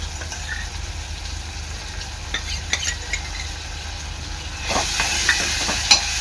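Ginger-garlic paste and tomato fry with field beans in a pan, a steady low sizzle with scattered spoon scrapes, swelling into a louder hiss near the end.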